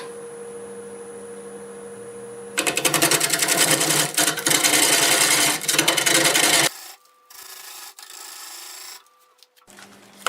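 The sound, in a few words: wood lathe turning cherry bowl with square carbide tool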